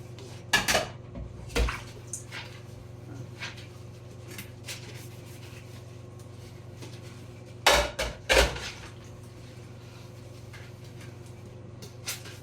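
Dishes and plates being washed, with scattered clinks and clatters of crockery over a steady low hum, two brief bursts of clanking near the start and another pair later, no talk.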